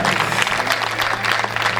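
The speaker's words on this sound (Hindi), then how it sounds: "एक बार तालियां बजाइए" Audience clapping at a Hindi comic poetry gathering (hasya kavi sammelan), a steady dense burst of applause from a crowd filling the short stretch without voices.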